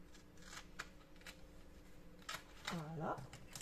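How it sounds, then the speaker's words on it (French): Scissors cut paper while a winter shaker album is being made: a few soft, quick snips and rustles sit close but quiet, and a short spoken sound or voice breaks in near the end. "Donc je vais prendre ma paire de ciseaux."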